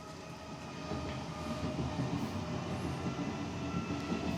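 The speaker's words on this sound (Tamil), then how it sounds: "இங்கே பாருங்கள் பக்கத்துலேயே ட்ரெயின் போகும்" A train rumbles past close by, a steady heavy roar with rhythmic rattling of wheels on the track, growing slightly louder after the first second.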